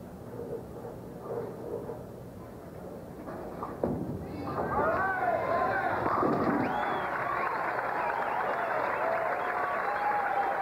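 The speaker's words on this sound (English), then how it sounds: "His father stands and applauds because Wayne Webb has won his second tournament this year." At the 1981 Greater Hartford Open, spectators burst into applause and cheering for the tournament winner; the clapping swells suddenly after a quieter stretch and continues steadily, with a commentator talking over it.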